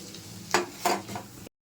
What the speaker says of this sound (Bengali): এবার ভাজা ভাজা হয়ে যাওয়ার পর একটু টমেটো ছেড়ে দিলাম